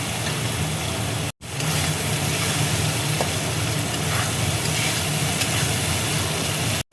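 Tomato and Kashmiri chili powder frying in a pan for a cabbage and fish curry: a loud, dense, steady sizzle close up, continuous throughout and broken by two abrupt silent gaps, with no talking.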